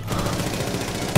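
Rapid automatic gunfire in Rainbow Six Siege, a dense, loud burst of shots heard close up, ending with a heavier impact.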